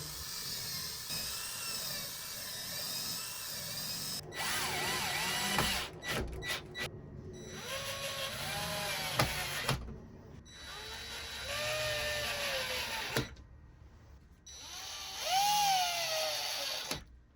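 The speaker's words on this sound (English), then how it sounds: "I'm going to drill some pilot holes" A power drill whines in several bursts while drilling pilot holes in clamped melamine, speeding up and slowing down, with short pauses between runs and a ratcheting click near the start.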